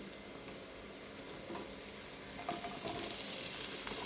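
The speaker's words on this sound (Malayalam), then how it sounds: "ഇനി ഇതിലേക്ക് നമ്മൾ അരിഞ്ഞു വെച്ചിരിക്കുന്ന കോവയ്ക്കയും കൂടെ ചേർത്ത്" Chopped ivy gourd frying in a pan for a Kerala-style fry, a steady close sizzle throughout with light scraping and stirring noises rising near the end.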